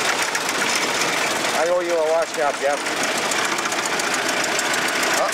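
A 1914 Ford Model T engine runs with a steady, rapid knocking beat, close and continuous, while people talk over it.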